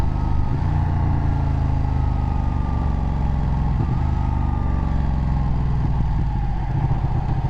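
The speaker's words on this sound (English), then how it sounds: "you're just watching a panigale 1299 or hearing as well, and watching how it is to ride one of these things" Ducati Panigale 1299 superbike being ridden, a deep, loud engine drone with shifting pitch and mechanical clatter as revs rise and fall, heard up close without talk.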